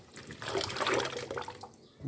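Rinse water draining from washed rice in a sink, a steady splashing pour that swells to its loudest in the middle and then tapers off, with no talking.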